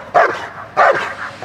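A Beauceron dog barks during bite work training against thick Hungarian bite pants, two loud close barks with a third starting at the end.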